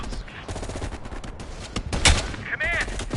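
Gunfire from a sniper rifle and other weapons in Call of Duty: Black Ops Cold War, with sharp shots and bursts over a busy game mix, including one prominent loud report near the middle.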